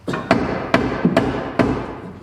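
Hammer blows on parts of a burnt 1973 Chevrolet Nova, four or five sharp metallic strikes at an uneven pace, close and fairly loud in a garage.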